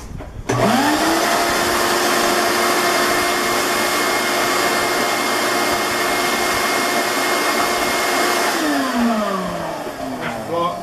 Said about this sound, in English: let me do a little vacuum.